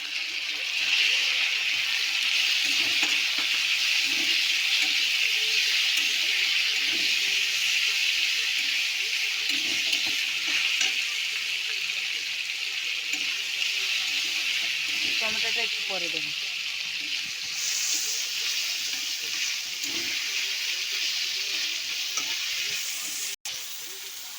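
Chopped onion frying in oil for potol curry, a loud, dense, continuous sizzle heard up close, with occasional stirring scrapes and speech faintly underneath.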